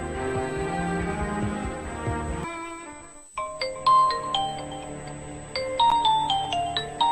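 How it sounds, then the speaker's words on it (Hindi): A tonal phone ringtone plays over background music, with bright chiming melodic notes repeating after a short gap. "फोन बज रहा है, उठा क्यों नहीं रही?"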